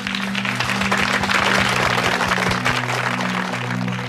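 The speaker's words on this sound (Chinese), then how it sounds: "掌声欢迎。" An audience at a televised singing contest applauds steadily, a dense, even wash of clapping that holds for several seconds with no talking.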